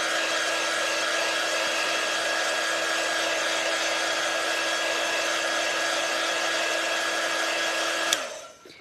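A hair dryer blows steadily to dry chalk paste on a coaster craft project, a loud constant whirring drone with a fixed tone that runs alone for about eight seconds before being switched off abruptly.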